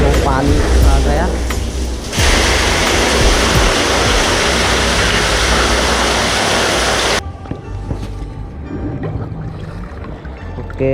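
Water gushes loudly into a tractor-drawn tanker in a steady, close rushing flow, with speech over it, then cuts off, leaving a quieter engine hum.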